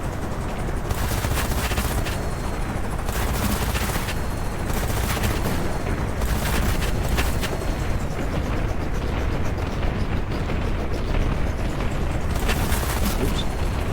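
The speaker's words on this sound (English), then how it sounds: "So Thumble has started opening fire" Naval battle in an island-capture video game: dense, continuous rattling gunfire and booming explosions that swell and fade in bursts, loud and unbroken throughout.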